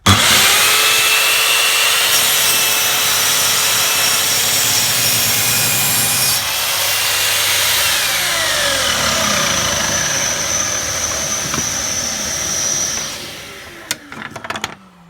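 A Parkside PZKS 2000 A1 telescopic mitre saw cuts wood at a 45-degree angle, a loud continuous whine and rasp of the blade through the timber for about thirteen seconds, then winding down with a few clunks and no talking.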